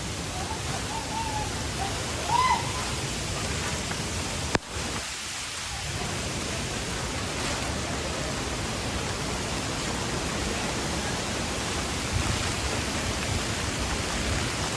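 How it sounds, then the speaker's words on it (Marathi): The Mangeli waterfall near Dodamarg roars with a dense, unbroken rush of water blended with heavy monsoon rain, heard close and loud. A single sharp knock cuts through midway, and there is no talking. "तो बघा धबधबा तिकडे"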